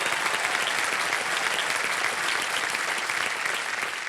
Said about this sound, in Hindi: जोरदार तालियां बज जाए।